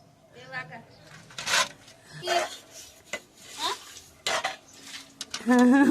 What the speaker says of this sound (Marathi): कशी केली घासून भांडी?